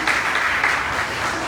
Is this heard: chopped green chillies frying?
no